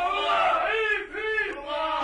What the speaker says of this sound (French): À ce moment, des acclamations retentirent sur le pont.